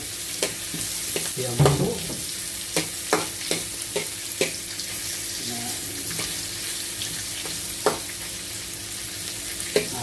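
Onion frying in a pan while cooking sea shell clams, a steady close sizzle broken by repeated sharp clinks and stirring knocks, with a brief spoken phrase early on.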